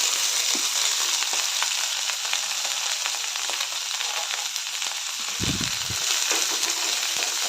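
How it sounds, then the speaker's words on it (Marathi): Onion, curry leaves, garlic and cluster beans frying together in a pan with mustard seeds and cumin, a steady close sizzle with occasional stirring scrapes and no talking. "कांदा कढीपत्ता लसूण रवारी सर्व एकत्र भाजून घेऊयात"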